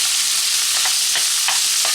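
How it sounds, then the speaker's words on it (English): Ground pork sizzling and browning in a pan for alcapurrias, a steady dense crackle with a few stirring scrapes, close and alone without talk. "We're going to let this pork start to cook, start to brown."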